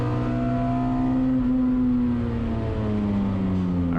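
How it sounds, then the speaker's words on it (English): A 1990 Mazda Miata with a K-swap engine races on a track as a BMW race car draws alongside, steady engine drone and rising harmonic whine running loud and close for the whole stretch, no talking. "So another BMW passes me as they"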